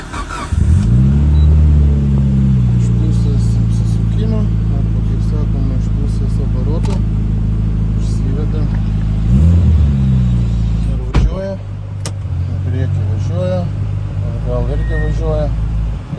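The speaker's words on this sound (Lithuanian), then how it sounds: "Tai bandysime dabar užvesti, pasižiūrėti, ar variklis gyvas." A Mitsubishi Lancer Evolution with roughly 140,000 on the clock starts and revs, a loud close engine sweeping up in pitch with sharp blips, then settling into a rough idle with clicks and knocks.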